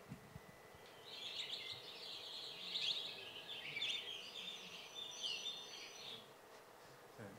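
Bird chirps from a directional speaker: a thin, faint run of high tweets repeats for several seconds over a low room rumble, and there is no talk.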